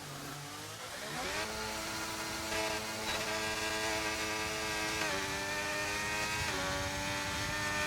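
A high-pitched racing engine in the video game F1 23 screams at full revs at Austria, its pitch climbing and shifting through gear changes, loud and continuous with no talking.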